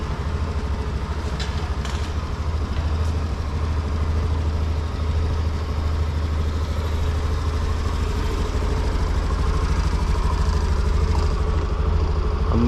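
A Honda Activa 6G scooter runs on a dyno, its small engine droning at a steady, fairly loud pitch with a mechanical rattle throughout, alone without talking.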